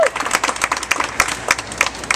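Crowd applause and clapping at an outdoor community launch event on New York's Lower East Side, a steady patter of many hands with sharper individual claps standing out, fairly close and continuous with no talk over it.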